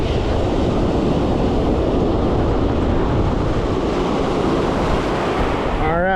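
Ocean surf at a San Francisco beach during surf fishing for barred surfperch, a steady loud roar of breaking waves with wind buffeting the microphone throughout, no clear pauses between wave washes.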